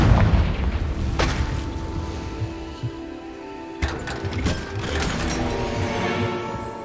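A Confringo blasting spell explodes in Hogwarts Legacy with a booming burst, then rumbling debris and mechanical clatter, another sharp blast follows midway, all fairly loud and close.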